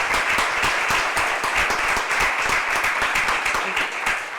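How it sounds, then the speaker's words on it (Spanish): A panel discussion audience applauds, with many hands clapping in a dense, steady burst that holds at moderate loudness throughout. "Pues un aplauso para Alberto también."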